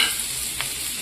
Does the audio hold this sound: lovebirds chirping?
no